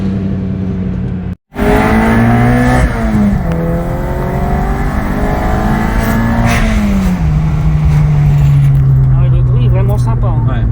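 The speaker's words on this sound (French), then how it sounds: "4 en 1, tube direct, échappement. Voilà. Ça fait du bruit sans faire trop de bruit" A 1975 Volkswagen Golf GTI engine with a 4-into-1 direct exhaust runs loud and close, a droning rumble rising and falling in pitch as it revs, with people talking over it.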